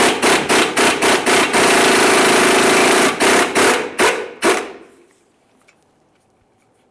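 A 24mm socket on a wrench works the lower ball joint mounting nut of a 1999-2006 Chevrolet Silverado 1500, making loud rapid ratcheting bursts in quick runs that stop after about four and a half seconds, then near silence.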